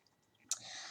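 A new tarot deck is shuffled by hand: a single soft click, then a sustained, close, papery rustle in a quiet room.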